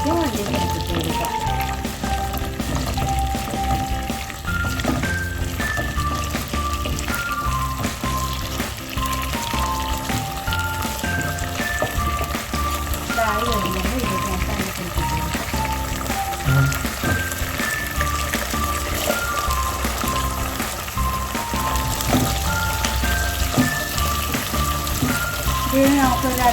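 Cashews and raisins frying in a pan while making rava milk halwa, a steady close sizzle and crackle that runs throughout, with a voice talking over it.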